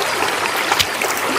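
A clean, cold river stream flows with a steady close rush of water and light gurgling, brief and alone.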